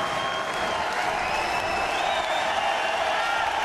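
Boxing fans at a World Boxing Super Series semi-final bout applaud steadily, a dense sustained wash of clapping and crowd noise, with an announcer talking over it.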